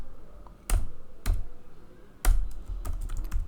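Computer keyboard keys pressed in a few short separate bursts of clicks, close and fairly quiet, with brief pauses between them and no talking.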